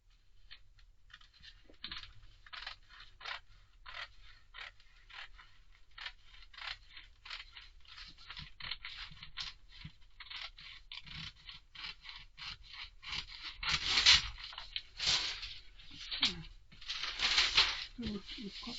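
Scissors cut through a paper skirt pattern in long runs of quick, rhythmic snips and rustling paper that grow louder toward the end, with a person talking quietly underneath.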